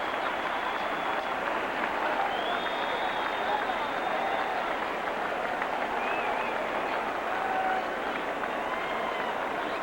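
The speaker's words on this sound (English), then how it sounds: "And Barry Bonds comes out for the acknowledgement of this sellout crowd at Enron Field" A sellout baseball crowd at Enron Field applauds and cheers a historic Barry Bonds home run, a dense, sustained roar of clapping from a large stadium audience.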